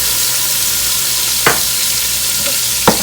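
Tomato paste cooking with conch liquid in a pan, a steady loud sizzle and hiss close up, broken by two brief stirring scrapes.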